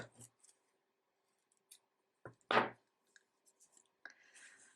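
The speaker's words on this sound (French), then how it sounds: "Et je coupe." Scissors snip through crochet yarn close by in an otherwise quiet room: one crisp cut stands out, with a few small clicks and handling noises scattered around it.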